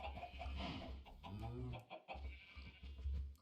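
Chickens in the video game StoneBlock 4, heard as several close clucks and squawks in short bursts over a low hum, with no talking.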